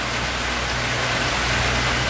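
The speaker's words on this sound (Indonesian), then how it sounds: "Sorry ah kalau suara tak jelas sebab hujan sekarang" Heavy rain hisses as a loud, continuous wash during a Honda Wave100 motorcycle engine rebuild with a 53mm bore kit, close and steady throughout with no talk.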